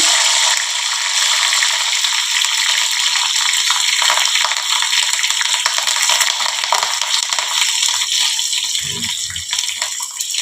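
Green chillies for bajji sizzle in hot oil, a steady bright hiss and crackle of frying that runs continuously and loudly throughout, with a brief low thump near the end.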